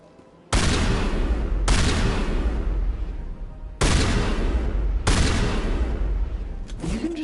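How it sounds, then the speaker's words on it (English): Gunfire in the Mass Effect video game: four loud, dense sustained bursts of shooting, each running about a second or more, separated by brief gaps, close and steady, with a short softer sound trailing at the end. "You can just start shooting people?"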